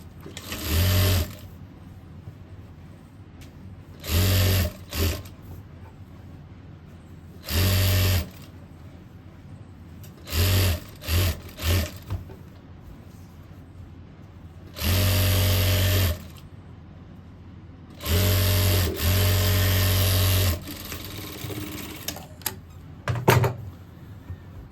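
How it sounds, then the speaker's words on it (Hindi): An electric sewing machine stitches a boy's cord set in loud, even bursts of a second or two, separated by quiet pauses as the fabric is repositioned. "इसी तरह से इस साइड से भी हम इसकी सिलाई कर लेंगे।"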